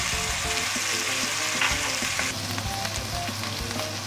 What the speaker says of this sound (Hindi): ये जीरा और कलौंजी भी अब डाल देंगे।